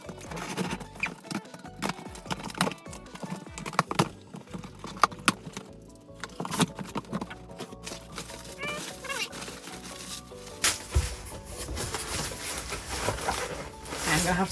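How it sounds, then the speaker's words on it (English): A box cutter slices open a big cardboard box of manga volumes: irregular scraping, tearing and rustling of cardboard, close up and busy throughout, with some handling knocks. "I've been given a box cutter, told not to use scissors"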